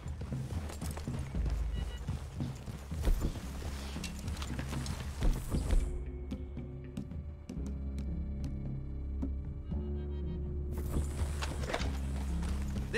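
Horse hooves clip-clop at a walking pace in Red Dead Redemption 2 amid low rumbling ambience, with a quieter stretch of faint ringing tones before the background fills back in.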